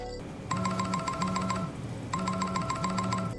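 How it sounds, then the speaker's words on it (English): A phone ringtone plays in an anime scene: two bursts of a bright electronic trill, each made of quickly repeated chirps. It rings close and clear, and no one talks. "it's the moment Kinji's phone goes off"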